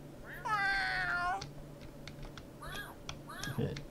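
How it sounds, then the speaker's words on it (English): Cats in a video game meow loudly and close, one long cry and then several shorter mews, over soft keyboard clicks and a voice speaking under them. "got lots of cats following me"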